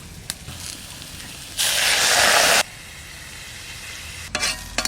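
Water poured onto fried spice masala in a pan for a taro curry sets off a loud, rushing burst of sizzling hiss lasting about a second. Quieter frying and a few clinks follow.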